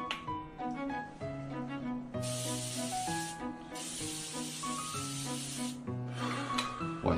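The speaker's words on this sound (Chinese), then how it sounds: "然后我一般会用一点这个雅诗顿抗氧精华喷雾" An Estée Lauder antioxidant essence face mist spray gives three fine hissing bursts, two long and one short, over soft background music.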